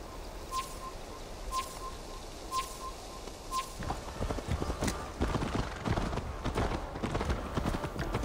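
Horse hooves clip-clopping in the Assassin's Creed Valhalla video game, a steady close rhythm of hoofbeats that grows louder and busier midway, with faint bird chirps above at the start.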